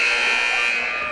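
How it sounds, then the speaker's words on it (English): A basketball game timeout buzzer blares in one sustained, loud electronic tone that holds steady across the whole moment, with faint gym ambience beneath. "There's the buzzer, so timeout should be over."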